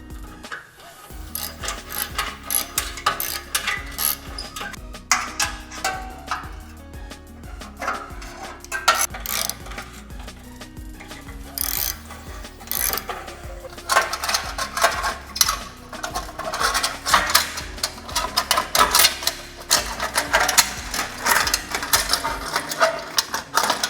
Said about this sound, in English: let's get the hose clamps off.